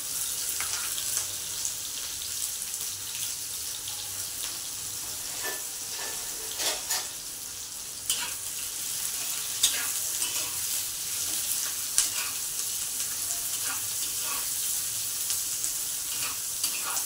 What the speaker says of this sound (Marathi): कांदा परतायला घालू